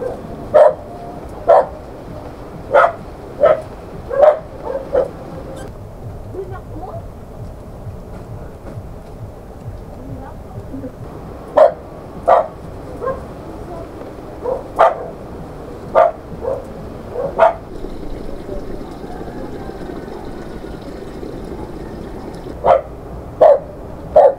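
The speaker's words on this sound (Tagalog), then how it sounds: "Kaingay ng aso pa." Sharp dog barks come in clustered bursts with quiet gaps between, fairly close, over a soft outdoor background.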